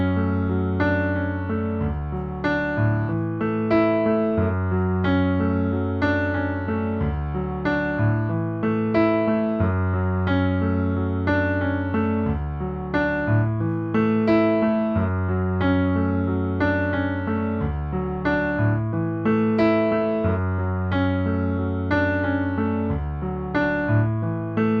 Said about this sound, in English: we'll learn how to play I Want It That Way by the Backstreet Boys